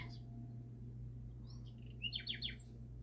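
Birds chirping from a television: a few faint high tweets, then a quick cluster of brighter chirps near the end, over a steady low electrical hum.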